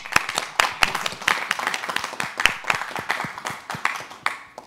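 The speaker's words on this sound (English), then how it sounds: "Let's give Arvind some applause" A crowd applauds at the close of a talk on online tracking, with dense, steady clapping from many hands lasting throughout, sharp individual claps standing out over the steady wash of applause.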